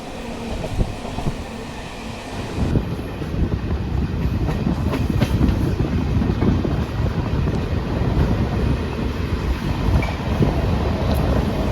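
MEMU train running on rails between Santragachi and Jhargram, heard from on board as a steady loud rumble with faint clickety-clack of the wheels that builds after a quieter start and stays constant.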